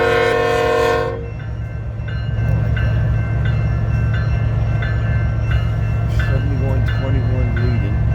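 A freight train with a CN locomotive as its second unit rolls past, opening with a loud horn blast, then a steady heavy rumble and wheel clatter close by, with voices talking over it.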